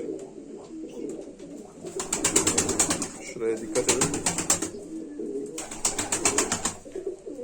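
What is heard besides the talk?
pigeons cooing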